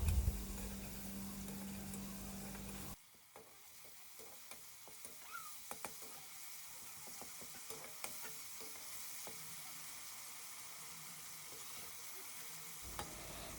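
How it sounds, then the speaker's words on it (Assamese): Tomatoes fry in a pan with salt, a soft continuous sizzle with scattered small crackles and pops, preceded by a brief louder burst at the start, with no talk. "এতিয়া ভাজি ল'ম ভালকৈ বিলাহীখিনি"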